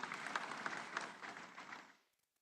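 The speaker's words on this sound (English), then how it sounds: "Let's give him a round of applause as he comes through." Audience applause at an opening ceremony, a dense burst of many hands clapping that fades out toward the end, no one talking over it.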